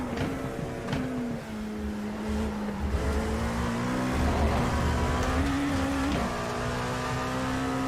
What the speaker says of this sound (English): Hear the traction control trick kicking in there.